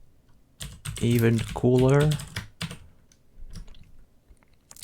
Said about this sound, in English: I can start typing things